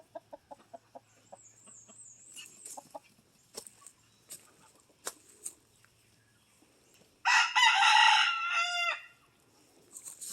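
Farmyard chickens cluck in short scattered bursts, then a rooster lets out one loud, close crow near the end, with faint background bird and fowl sounds in between.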